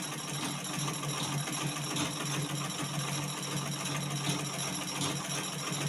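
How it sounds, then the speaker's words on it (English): A sewing machine runs steadily while stitching fabric at a moderate speed setting, producing a continuous close mechanical whir and rapid needle rattle with no pauses. "I want to begin sewing, and I'm keeping my control at between 7 and 10."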